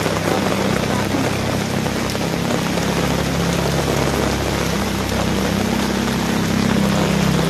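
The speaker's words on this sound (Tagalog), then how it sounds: "Wala ni kusog na pud ang ulan." Heavy rain pours steadily during flooding, a dense continuous hiss of drops drumming on surfaces, with a low rumble underneath and no voices.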